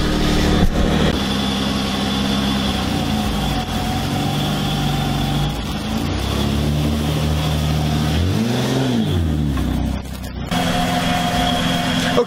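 A lifted Ford Escape's engine runs steadily and loudly nearby, with brief revs and a pitch that rises and falls, ready for drifting in snow.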